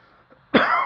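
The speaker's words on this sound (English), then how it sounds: "Got a bit of a cough there." A single sharp cough bursts out after a brief quiet moment, close and fairly loud.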